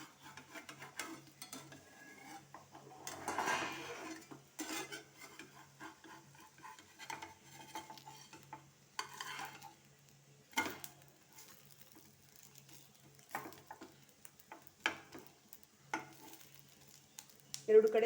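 Rava roti sizzles softly in oil on a pan as it is turned, a faint crackling hiss with occasional scraping and tapping of a spatula, quiet and close.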